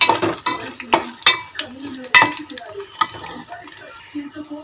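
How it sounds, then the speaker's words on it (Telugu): Chana dal and urad dal lightly frying in a pan make soft intermittent crackles, broken by sharp scraping and stirring hits at irregular intervals, with faint tonal background sounds between them. "ఇప్పుడు శనగపప్పు అలాగే మినపప్పు ఇప్పుడు లైట్గా వేయించుకోవాలి"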